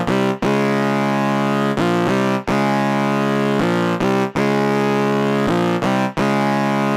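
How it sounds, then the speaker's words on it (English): Synth Betty, a Serum preset built on perfect fifths, plays a loud, sustained and gritty chordal lead. Its held notes shift pitch every second or so, with short gaps between phrases. "the first synth is this perfect fifth synth called Synth Betty"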